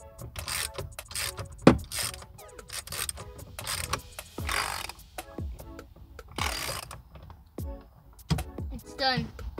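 Plastic push pins popping out of the trim on a car steering wheel being removed for re-wrapping: a dense run of close, sharp plastic clicks, snaps and rattling handling noise throughout.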